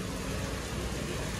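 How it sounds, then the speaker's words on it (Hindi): Monsoon rain falling outdoors in Mira Road. Steady, even hiss of rainfall across the short stretch, fairly faint with no voices. "बारिश हो रही है."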